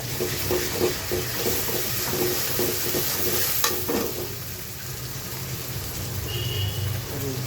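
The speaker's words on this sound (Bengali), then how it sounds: "ভাজা পেঁয়াজ মধ্যে দিয়ে দিচ্ছি এখানে দুই চা চামচ পরিমাণ আদা" Ginger added to onions frying in oil for a village-style Bengali chicken curry, giving a steady close sizzle with rhythmic stirring scrapes through the first half, then settling into continuous hiss.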